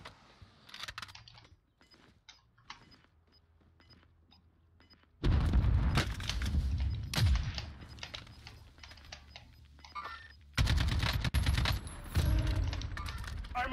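Gunfire and RPG rocket blasts in a Warzone firefight, loud bursts of rapid shots and booming hits, broken by quieter stretches filled with keyboard clatter.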